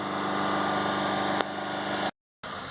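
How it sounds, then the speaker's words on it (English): A Mazda engine idles steadily after a turbo and carbon cleaning treatment, giving a loud, even drone with a brief blip midway and a short dropout to silence near the end. "we will let the engine run for about 5 minutes there just to burn off all of that smoke."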